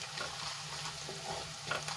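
Turmeric is stirred into hot oil tempering for a drumstick kadhi, making a quiet, steady sizzle with faint scraping stirs and a couple of light clinks near the end, close and soft, with no talking.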